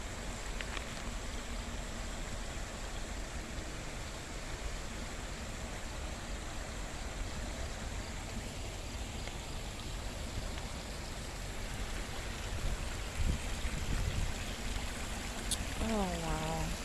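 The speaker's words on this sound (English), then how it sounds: "You see the waterfall." Waterfall in a Japanese garden, a steady broadband rush of falling water that holds constant throughout, moderately loud and close, with a few faint incidental sounds near the end.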